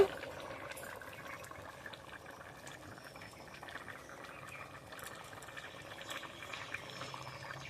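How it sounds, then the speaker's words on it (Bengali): Pea and potato ghugni curry simmering in a pot, with soft, continuous bubbling and small pops, quiet and close. "একটু দেখে নেবো তরকারিটা ভালোভাবে ফুটে গেছে"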